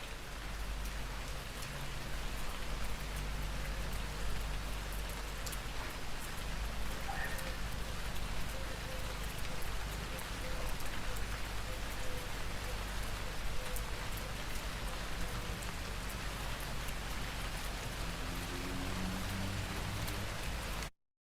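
Heavy rain pours down during a thunderstorm in Wallingford, South Oxfordshire, a steady, dense shimmering hiss just outside an alleyway that holds constant throughout, with a low rumble underneath, then cuts off abruptly at the end.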